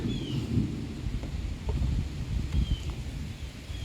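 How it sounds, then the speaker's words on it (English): Thunder rumbles low and continuously through a summer afternoon storm, with light rain and some wind noise. It is steady and moderately distant, with no voices. "You got to hear some awesome thunder."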